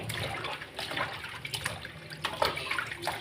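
Country chicken meat being washed by hand in a basin of water, with steady sloshing and splashing plus intermittent louder swishes, close by and with no talk.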